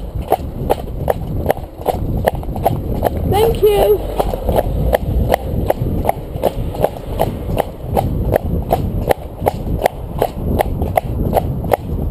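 A horse on a long trot, hooves clip-clopping in a steady, even rhythm throughout, close and clear, with a person speaking briefly over the beat.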